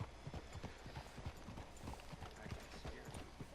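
Horse hooves clip-clopping at a steady walking rhythm in the Red Dead Redemption 2 video game, faint and continuous against a quiet town backdrop.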